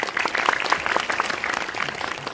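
Audience applause at a film festival Q&A after a screening of House of Hummingbird in Busan, a dense, steady patter of many hands clapping at once, sustained and fairly loud with no pauses.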